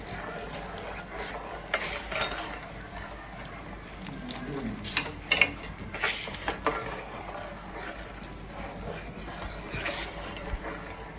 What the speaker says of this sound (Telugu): ఇదిగో చక్కగా మొత్తం రవ్వ పోసేసాను మొత్తం కలిసేటట్టుగా తిప్పుకోండి